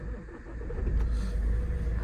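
A 2011 Suzuki SX4 DDiS 4x4 turbo diesel is started with a keyless transponder, and its engine catches and settles into a deep, steady rumbling idle that swells slightly, heard close by.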